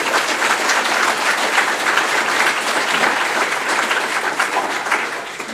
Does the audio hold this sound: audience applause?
yes